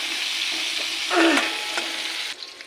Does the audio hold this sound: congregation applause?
no